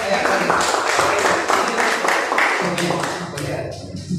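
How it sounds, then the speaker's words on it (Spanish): An audience claps for a speaker at a basic electricity training session in Pucallpa, with loud, dense applause filling the room before tapering off near the end, voices mixed in. "Un fuerte aplauso, por favor, para Sanabria"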